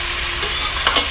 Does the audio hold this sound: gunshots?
no